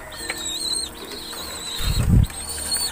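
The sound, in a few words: racing pigeons flapping wings, rushing to drink water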